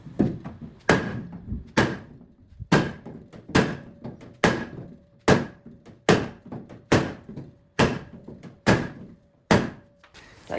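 Hammer blows beat a dent out of an aluminum boat hull: about a dozen sharp, ringing metallic impacts, close and loud, at a steady pace of roughly one per second.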